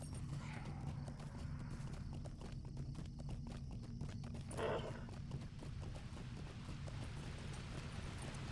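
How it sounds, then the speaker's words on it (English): A horse's hooves clip-clop steadily in the Lord of the Rings Online game, a quiet, even rhythmic trot over a low ambient bed, with a brief whinny partway through. "I'm gonna get on my horse."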